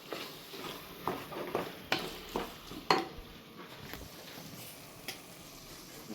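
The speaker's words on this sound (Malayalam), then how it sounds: "എന്നിട്ട് സവാള, ഇഞ്ചി, വെളുത്തുള്ളി, പിന്നെ പച്ചമുളക്, പിന്നെ ഇതെല്ലാം കൂടെ വഴറ്റുക." Onion, ginger, garlic and green chilli sautéing in coconut oil in a cooker, heard as a soft steady sizzle broken by several sharp scrapes and clinks of a spoon against the metal pot.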